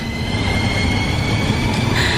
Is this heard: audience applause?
no